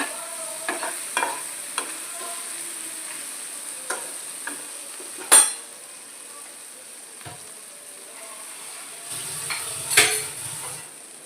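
Chana kofta curry is stirred in a pan, with sparse scrapes and taps of a spoon on the metal over a quiet background, including a couple of sharper knocks.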